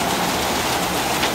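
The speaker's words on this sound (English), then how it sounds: "Hail and then rain. And it's coming down fast" Hail and rain pour down fast around a houseboat, a dense, loud, unbroken hiss of drops hitting surfaces, with no voices.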